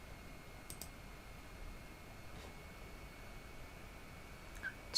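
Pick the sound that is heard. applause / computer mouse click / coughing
computer mouse click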